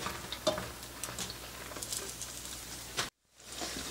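Yeast-dough krepli fry in a pan of hot fat, giving a steady soft crackling sizzle with scattered pops, which cuts out briefly near the end before resuming.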